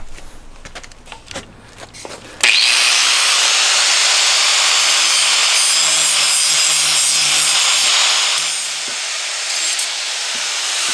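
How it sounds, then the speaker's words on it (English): An angle grinder bevels the ends of steel tube for a Jeep TJ spare-tire hitch basket, starting after a few light knocks and then running as a loud, continuous, harsh grinding hiss that dips slightly near the end. "Now we're gonna use the grinder to chamfer the ends."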